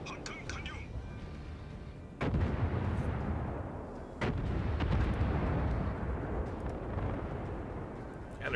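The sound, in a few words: naval gunfire shelling a ship in a video game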